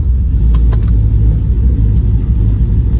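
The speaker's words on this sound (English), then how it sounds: "we're doing a little test drive" A Firebird Trans Am with a swapped LQ4 engine rumbles on a test drive, running lean under load; a loud, steady low engine drone fills the whole stretch with no talk.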